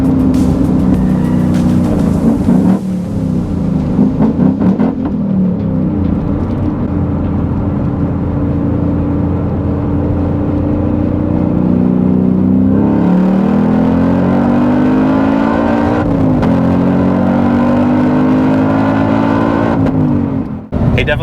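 A Ford Mustang Mach 1 racing another car, its engine loud and close as it accelerates hard, with rising revs that drop at gear changes for about twenty seconds.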